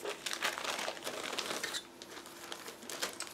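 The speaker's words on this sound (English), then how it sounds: "So here we have another plastic bag. Again, I need a second to open it." A plastic bag holding ARK Models 1/72 Mi-24V helicopter kit parts is opened up close, with continuous crinkling and rustling in uneven bursts and no voices.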